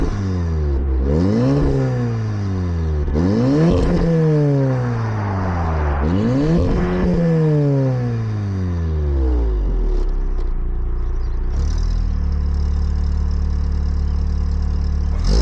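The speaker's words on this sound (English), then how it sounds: "So we're gonna rev the engine on this car" A tuned stage 2 VW Golf R mk7 engine revs loudly in several rising and falling sweeps, each blip snapping back down, before settling into a steady, rumbling idle.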